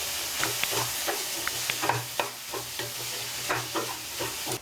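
Cabbage and chopped tomato sautéing with ginger-garlic paste in a pan, a continuous sizzle broken by repeated sharp scrapes and clacks of a spatula stirring, close and fairly loud.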